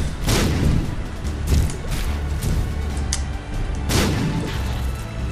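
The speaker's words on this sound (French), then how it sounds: "Explosion nucléaire." Nuclear explosion in The Binding of Isaac video game, heard as repeated loud booming blasts in irregular succession, each a sharp burst with a rumbling tail, close and dominant over a busy game soundscape.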